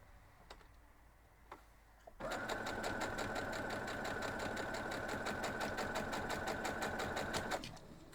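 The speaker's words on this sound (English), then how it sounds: "So let's head over to the sewing station, we'll call it. And I'm going to sew this one first" Sewing machine stitching a quilt block, starting after a couple of faint clicks and running fast and steady, near and loud, until it stops just before the end.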